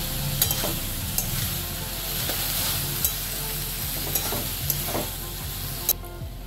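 Poppy seed paste with banana stem and small potato pieces cooks in a pan with a steady close sizzle, while sharp spoon clicks and scrapes strike the pan at irregular intervals.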